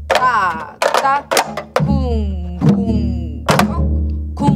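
A janggu, the Korean hourglass drum, played in the jungmori rhythm, with loud resonant strikes mixing deep booming hits and sharp slaps in a steady pattern.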